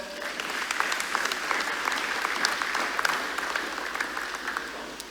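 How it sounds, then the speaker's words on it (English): An audience at a quadrennial church session applauds two departing colleagues, a dense, even wash of clapping from a large crowd that holds steady throughout. "Would you applaud them?"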